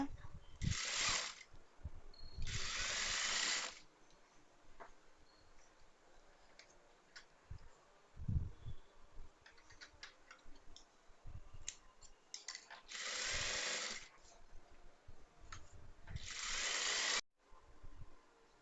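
A sewing machine stitches a chudithar pant in several short bursts of fast whirring, each lasting one to two seconds, separated by quiet pauses with faint clicks and handling noises, close and moderately loud.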